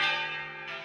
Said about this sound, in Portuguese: Badaladas que se juntam às sirenes.